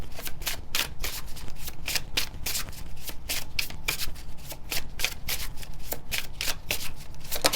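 Tarot cards being shuffled by hand, a continuous run of crisp riffling flutters and slaps in quick irregular rhythm, close and fairly loud with no talk.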